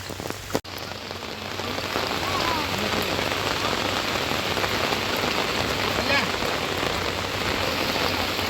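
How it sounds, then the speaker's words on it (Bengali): Heavy monsoon rain pours steadily in Mayapur in a dense, continuous hiss, with a brief sharp knock near the start and no voices. "দেখো জাস্ট কি পরিমাণে বৃষ্টি হচ্ছে"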